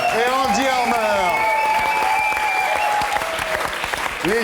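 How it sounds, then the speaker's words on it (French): A TV studio audience bursts into sustained applause, loud and dense for a few seconds before thinning slightly, with a host's voice speaking over it. "je vous demande d'applaudir Camilla Chatbol et Andy Harmer."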